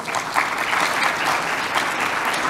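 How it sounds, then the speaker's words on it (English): An audience claps for a World Bank panelist walking onstage at a forum on Africa's data protection laws. The applause is brief, dense and even, with steady clapping and no voices over it. "Round of applause."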